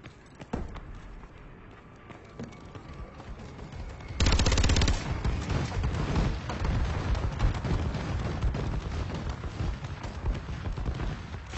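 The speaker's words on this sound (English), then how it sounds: "Friendly bombing run clearing the way." Explosions from a bombing run and rapid gunfire in Call of Duty Advanced Warfare, loud, dense and continuous, swelling sharply partway through and staying heavy to the end.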